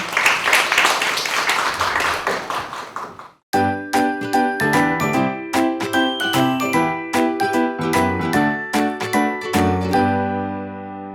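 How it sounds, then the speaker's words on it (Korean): A few seconds of clapping from a seminar audience cut off abruptly, followed by bright chiming, bell-like music with a steady rhythm. "큰 박수로 환영해 주시기 바랍니다"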